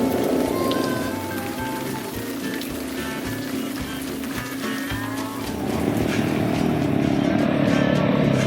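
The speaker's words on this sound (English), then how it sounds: "It was the type of rain you couldn't escape from" Heavy, relentless rain during a motorcycle ride on the Cape York track, a dense constant hiss of downpour with a low engine rumble underneath, close and steady throughout.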